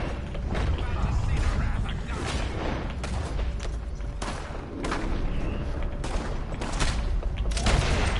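Dense, continuous video game gunfire with overlapping shots, bursts and booming impacts, loud and close throughout, with voices talking underneath the battle.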